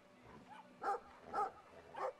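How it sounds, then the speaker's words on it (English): A giant dog in the video game Brothers: A Tale of Two Sons gives three evenly spaced, loud, close barks against a quiet game background. "That is a giant dog."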